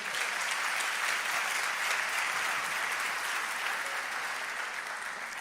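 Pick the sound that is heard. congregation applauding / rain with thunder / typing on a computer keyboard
congregation applauding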